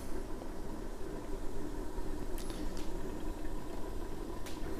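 A pot of Liuzhou snail rice noodles boils on the stove, a steady soft bubbling hiss with a few brief higher clinks, fairly quiet and alone without talk.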